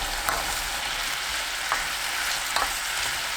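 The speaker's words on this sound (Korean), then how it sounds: "전체적으로 끓어오르면 호두 넣고 1분 30초 볶아주세요" Walnuts stir-fry in a simmering gochujang and garlic sauce, a constant bright sizzle broken by three soft scrapes of stirring spaced about a second apart.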